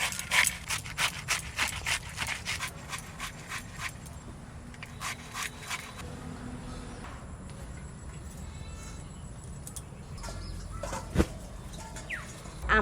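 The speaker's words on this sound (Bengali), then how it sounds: "আমটা আমি এবার ঘষে নেব।" A raw mango being grated by hand for a mango kasundi chicken curry, with steady rapid scraping strokes close by that slow and thin out into quieter rubbing later.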